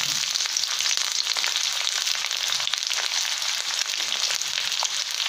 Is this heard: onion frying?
yes